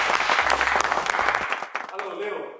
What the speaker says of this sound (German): Ein Applaus bitte für Stefan Hahn.